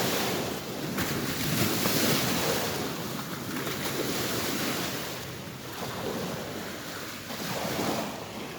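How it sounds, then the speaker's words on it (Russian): Waves on a river wash and churn continuously with a broad rushing roar, rising and falling in slow surges, mixed with wind noise, near Yakutsk in smoky air. "Сейчас будет волна."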